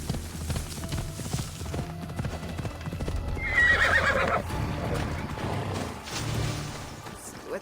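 In Assassin's Creed Odyssey, a horse's hooves clip-clop in a steady gallop as it whinnies loudly midway, mixed with game effects and ambient noise.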